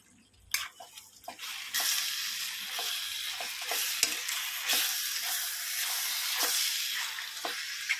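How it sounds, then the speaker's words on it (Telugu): Chicken curry stirred in a sizzling pan just after salt goes in, with a loud continuous frying hiss broken by repeated scraping strokes of the spoon against the pot. "ఇప్పుడు అంతా ఒకసారి కలుపుకుందాం"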